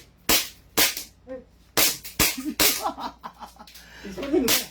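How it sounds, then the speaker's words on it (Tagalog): A 2011 TREX 5.1 Hi-Capa airsoft pistol fires several sharp, close cracks at an irregular pace while people talk and murmur between the shots. "pinagbababaril mo yung unit"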